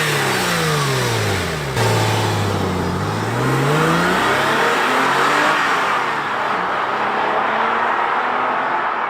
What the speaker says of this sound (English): the next logical step was to throw an exhaust on the car. The stock exhaust just wasn't loud enough